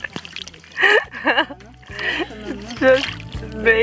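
Feet being lowered into a water tank for a fish massage at a spa in Tulum, Mexico, giving soft splashes and sloshing beneath excited talk and exclamations throughout.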